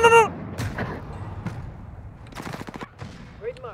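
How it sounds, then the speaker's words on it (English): Scattered gunshots in a shooter video game, a few sharp cracks spread across a few seconds, some distant, with a voice talking among them. "Taking fire!"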